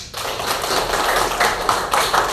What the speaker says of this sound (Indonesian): tepuk tangan buat Fitri